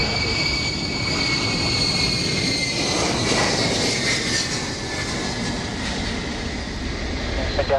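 An Ilyushin Il-76 aircraft flying, a broad steady engine roar with a high whining tone running through it, loud and continuous across the clip with no voices.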